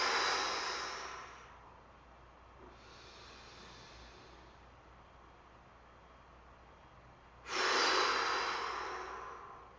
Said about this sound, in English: Very intentional with our exhale.